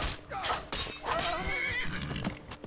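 A horse neighs and whinnies loudly in Skyrim, with repeated rising and falling calls over a couple of seconds and faint hoof clip-clops underneath.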